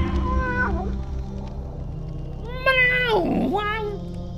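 Cat meowing in the dark puzzle-adventure game Tormentum - Dark Sorrow: two drawn-out, wavering meows, a short one early and a louder, longer one near the end, over a low steady ambient drone.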